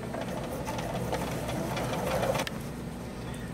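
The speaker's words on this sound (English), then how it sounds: "I'm going to sew a 1/4-inch seam along the edge, matching the binding to the edge of the quilt." Sewing machine running steadily while stitching a 1/4-inch seam to attach binding along a quilt edge, a continuous close mechanical hum that stops abruptly near the end.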